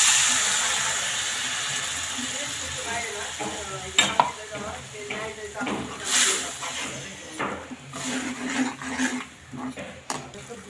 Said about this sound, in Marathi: गरम पाणी घालून हे पेस्ट जे आहे त्याच्यामध्ये मिक्स करून घेणार